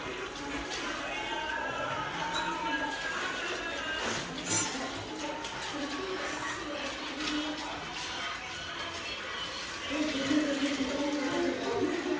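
Water runs steadily from a tap for several seconds, a constant rushing splash that grows a bit louder near the end, with faint voices underneath.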